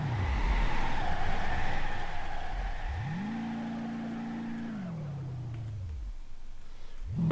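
A fast car in the BeamNG.drive driving game roars steadily, its engine tone rising to a high held pitch, then dropping away before climbing again at the end.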